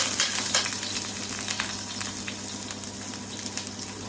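Chopped small shallots fry in coconut oil with mustard seeds in a pan, giving a steady close sizzle with scattered crackles and pops throughout, no voices.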